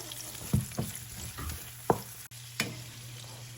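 Shrimp fry in a pan with garlic powder, a continuous close sizzle broken by several knocks and scrapes of stirring against the pan.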